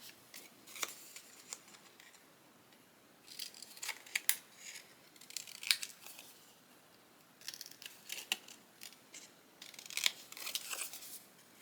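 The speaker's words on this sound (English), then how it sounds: "I'm just going to finish cutting this out." Scissors cutting out a paper card for a handmade fairy-themed craft project: repeated snipping and crisp paper rustles in short clusters with pauses, close and fairly quiet, no talking.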